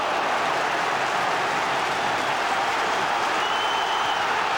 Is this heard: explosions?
no